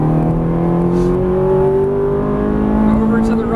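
Ferrari 430 engine revving under full throttle on a race track, a loud, close, steadily rising howl building in pitch across the whole clip, with faint voice in the background.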